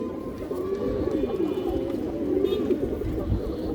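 Indian high-flyer pigeons coo in low, throaty, repeated calls close by, with faint murmuring in the background.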